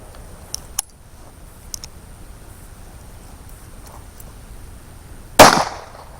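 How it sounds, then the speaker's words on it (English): A Pitbull .380 pistol loaded with factory ammunition fires one sharp, loud shot over a chronograph near the end, preceded by a few faint clicks and quiet background. "I'm testing this thing out to make sure I got it set up correctly with my Pitbull 380 using some factory ammo"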